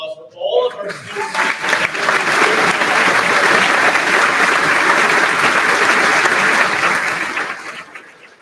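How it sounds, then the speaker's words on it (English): A large audience at a middle school eighth grade recognition ceremony applauds the students. The clapping swells quickly after a short voice, holds loud and dense for several seconds, then fades out. "How about another round of applause for all of our students?"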